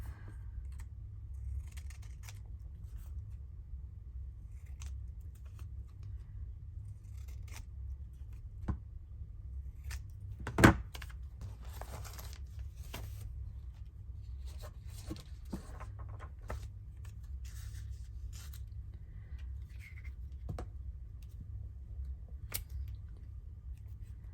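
Scissors trim paper ephemera during a craft session with faint, sparse snips and rustles, one sharper cut standing out midway, over a low steady background hum and without talking.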